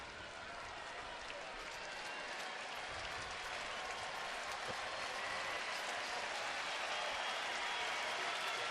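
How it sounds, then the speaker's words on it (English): A hometown baseball crowd at a Cleveland home game applauds and cheers steadily throughout, a dense wash of clapping and voices filling the stadium with no single sound standing out. "Fausto getting a little help from the hometown crowd here."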